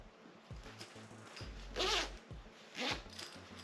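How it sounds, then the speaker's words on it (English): A small zipper on a little pouch is pulled in two quick close-up strokes, each a short raspy buzz, with light handling noise around them. "It has a little zipper and it opens up."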